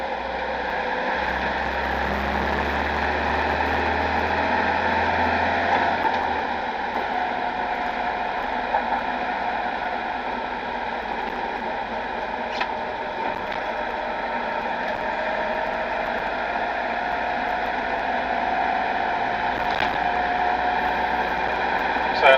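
A Land Rover 90 with a 2.5 petrol engine runs at a steady, smooth hum from inside the vehicle, a continuous even drone with a few faint ticks and clicks and no talking.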